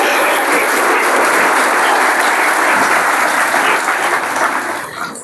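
Loud, sustained applause from a church congregation celebrating Easter, a dense wash of many hands clapping that fills the space for several seconds and begins to thin toward the end.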